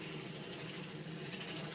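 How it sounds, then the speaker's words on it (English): Aircraft engine noise from two helicopters flying overhead, a steady, fairly loud broadband roar with no clear blade beat, continuous throughout. "There are two helicopters all around us right now."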